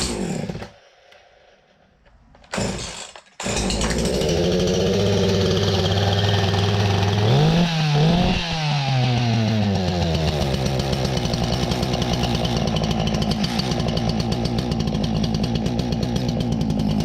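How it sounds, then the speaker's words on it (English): A chainsaw, with its chain and bar removed, sits quiet before its engine catches and roars. It surges through a brief rev and then holds a loud, steady high-speed buzz, close up with no voices. "you can take the chain and bar right off and just rev her up"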